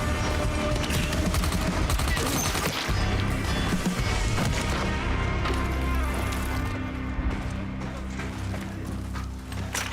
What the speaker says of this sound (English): let me use my rifle actually a little bit.